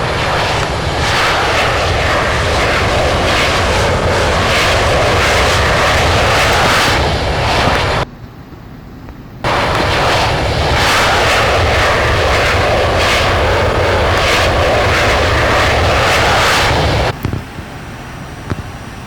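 Loud, steady F-16 jet engine roar fills the cockpit continuously during low-altitude maneuvers, briefly dropping away for a moment before returning just as strong.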